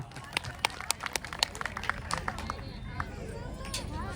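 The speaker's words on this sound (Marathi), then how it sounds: "अरे टाळ्या वाजवा." An audience at a village Women's Day function claps, a quick scattered burst of hand claps close by that thins out after a few seconds, with crowd chatter mixed in.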